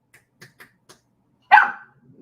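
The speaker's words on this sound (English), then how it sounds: "My dog be bugging, bro. It's a little puppy, be wilding." A little puppy gives one loud, close yap after a few faint taps, and quiet rustling follows.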